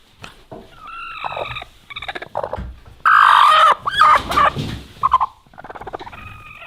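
Chickens in a coop where hens sit brooding on hatching eggs, giving loud bursts of clucking and squawking calls, close by, with short pauses between and no talking.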